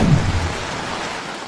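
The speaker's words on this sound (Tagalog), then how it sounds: "Kasunod ng malakas na pag-ulan," Heavy rain pours steadily during a low-pressure-area storm in Luzon, with a low rumble of thunder rolling underneath at the start before fading into the downpour.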